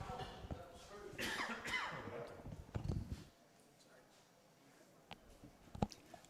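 Several harsh coughs and throat-clearing bursts come in uneven clusters, loud at first and then sparser, with faint talking in the background, from a commentator during a high school football jamboree broadcast.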